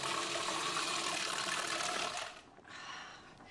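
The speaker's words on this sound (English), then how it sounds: "add a teeny bit of pasta water now" Starchy pasta water pours steadily into a pan of sauce in a home kitchen, a continuous close splashing rush that stops abruptly after a couple of seconds, leaving a softer trickle.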